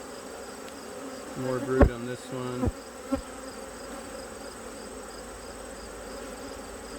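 Honey bees hum and buzz steadily around an open hive frame heavy with brood in early fall, a close, low drone running throughout, with a voice speaking briefly over it.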